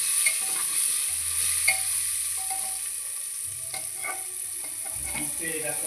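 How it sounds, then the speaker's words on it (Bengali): Potatoes seasoned with salt and turmeric sizzle and crackle steadily in a pan over low heat, a continuous close frying hiss with occasional stirring scrapes and clinks, no talking. "আলুগুলোকে একটু ভেজে নিচ্ছি।"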